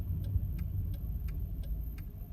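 A car's turn-signal indicator ticks in an even rhythm, about one click every 0.7 seconds, over a low engine rumble while the car pulls over to the kerb.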